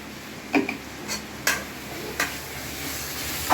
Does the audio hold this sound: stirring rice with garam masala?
yes